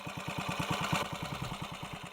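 Ariel SF31 sloper motorcycle engine running steadily, a rapid even thumping beat at close range with no voices.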